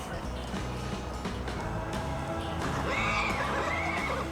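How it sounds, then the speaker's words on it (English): Horse whinnying outdoors in a busy Arizona ghost town tourist attraction near the Superstition Mountains, a rising neigh heard amid crowd murmur and a dense, noisy background. "And a horse."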